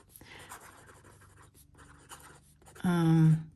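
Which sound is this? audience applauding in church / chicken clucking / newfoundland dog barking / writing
writing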